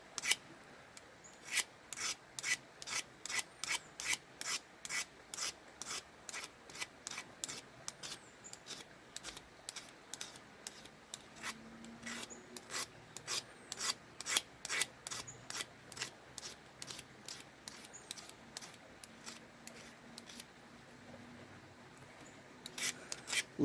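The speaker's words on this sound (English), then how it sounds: "A little harder to scrape around the knots." Steady rhythmic scraping of bark off a wooden stick being carved into a whimmy diddle folk toy, with regular close strokes repeating for a long stretch at a soft, even level, no talking.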